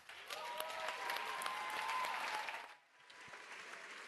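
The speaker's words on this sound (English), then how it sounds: "Let's give them a round of applause" Applause at the World Food Day closing ceremony of the World Food Forum, a sustained wash of crowd clapping from a large audience, fairly faint and distant, dipping briefly before continuing.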